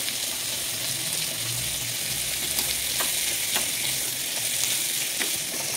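Garlic and turmeric frying in oil for a chutney, giving a continuous close sizzle dotted with sharp pops and crackles, some louder snaps scattered through the second half.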